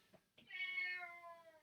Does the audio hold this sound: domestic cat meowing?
yes